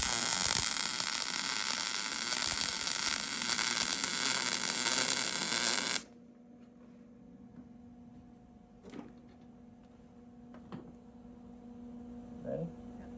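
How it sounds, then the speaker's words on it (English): Thick steel being welded in a garage, a loud steady broadband crackle and hiss for about six seconds that cuts off abruptly, followed by quiet hum and a few faint clicks. "Ready to weld?"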